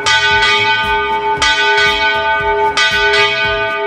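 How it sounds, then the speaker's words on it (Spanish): Swinging esquila bells ring while rotating, loud bright metallic strikes in a repeating rhythm of about seven clangs whose long tones waver and warp as the bells turn. "Sí, ese es el sonido que producen las esquilas al estar girando."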